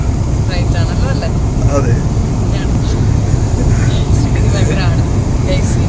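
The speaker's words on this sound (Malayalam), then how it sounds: "ഇത് ഫ്ലൈറ്റ് ആണ്, ഇത് റോഡല്ല. ഫ്ലൈറ്റിൽ ആട്ടം ചാട്ടൊക്കെ ഉണ്ടാവും." Steady roar of an airplane cabin in flight, a constant broadband engine and air hum throughout, with a person speaking briefly over it.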